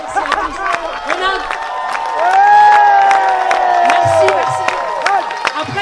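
Festival concert audience applauding and cheering throughout, a dense wash of clapping with whoops and shouts over sustained musical tones, fairly loud and steady.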